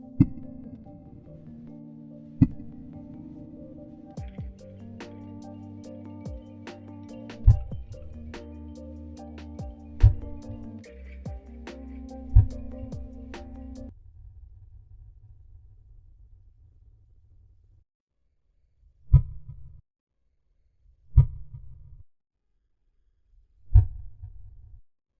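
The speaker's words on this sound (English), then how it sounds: "Oh, a heartbeat." Video game heartbeat effect: a few deep, isolated low thumps spaced a second or two apart, following a denser stretch of layered low rumbling pulses, with no voices.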